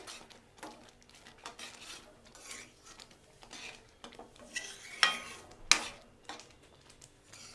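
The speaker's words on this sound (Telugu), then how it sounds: "గరం మసాలా వేసిన తర్వాత ఒకసారి కలియబెట్టండి" A spoon stirring garam masala into khadi dal curry in a pan, soft scraping and intermittent metal clinks, with two sharper clanks toward the end and a faint low sizzle underneath.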